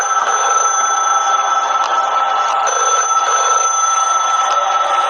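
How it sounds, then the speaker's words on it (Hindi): A steady electronic phone ring with a high, continuous tone, heard alone and fairly loud with no voices. "एक लैंडलाइन के बजने की घंटी सुनाई दी"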